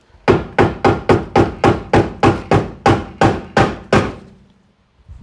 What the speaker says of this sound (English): Just take a rubber mallet and start to kind of hammer.